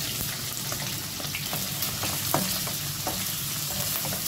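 Carrots and broccoli sticks fry in a pan for a shrimp noodle dish, giving a steady close sizzle with scattered clicks and scrapes from stirring.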